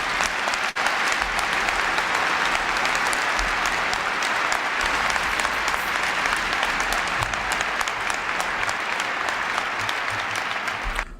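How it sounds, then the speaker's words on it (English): Sustained loud applause from a large crowd at a speech by Bill Clinton, dense steady clapping that fills the whole stretch without letting up. "They gonna start clapping on this."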